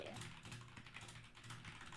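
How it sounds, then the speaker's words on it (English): Soft, rapid clicking of a computer keyboard being typed on continues for two seconds, quiet and steady with irregular keystrokes and no talk. "What are you typing?"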